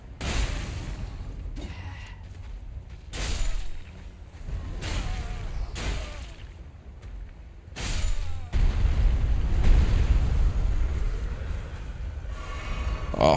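Flame sling spells cast in the video game Elden Ring during co-op play, several booming fiery bursts at irregular intervals over low rumbling game ambience.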